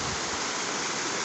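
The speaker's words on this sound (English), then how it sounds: "See, that's the river." A river runs just outside a villa at Yercaud, its steady broadband rush filling the moment evenly and softly, with no voices over it.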